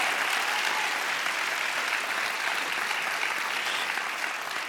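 Steady, dense applause from an audience at a charity wish-granting event, clapping continuously at an even level for several seconds with no voices over it.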